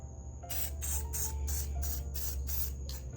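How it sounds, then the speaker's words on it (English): Bursts of aerosol spray paint coat orange pumpkins gold, including the stems, in a run of about six short hissing sprays with brief gaps, close up over a low steady background hum. "we're going to spray paint the orange ones, the gold"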